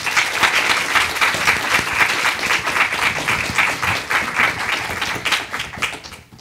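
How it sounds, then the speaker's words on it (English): An audience at a MoMA talk gives its speakers a round of applause, loud close clapping with a slightly uneven rhythm that continues throughout and eases toward the end. "Just a really quick, I think, round of applause for our speakers."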